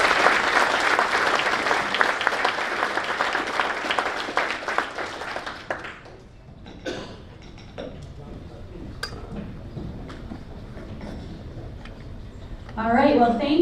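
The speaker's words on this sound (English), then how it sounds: "Can we get a round of applause?" A meeting audience gives a round of applause, a fairly loud and dense clapping that fades out after about six seconds into scattered lone claps and quiet room noise, then a voice begins speaking at the end.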